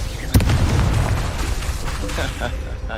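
A Confringo fire spell bursts in Hogwarts Legacy with one sharp, loud blast. A deep rumbling tail and battle noise follow it, and a voice shouts over the scene.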